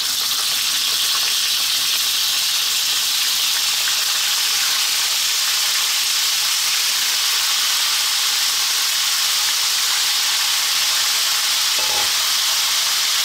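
Chicken drumsticks frying in oil, a loud continuous hissing sizzle holding steady throughout, with one brief knock near the end and no voices.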